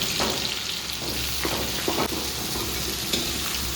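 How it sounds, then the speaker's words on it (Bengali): Onions sizzling in a pan of oil left over from frying potatoes, a continuous hiss and crackle close by, with a few brief stirring scrapes and clicks and no talking. "আলু ভাজা তেলের মধ্যে পেঁয়াজগুলো সব দিয়ে দেবো।"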